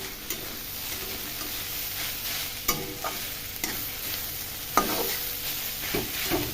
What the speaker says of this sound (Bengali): একটু ভালো করে নাড়াচাড়া করে আমি নামিয়ে দেবো।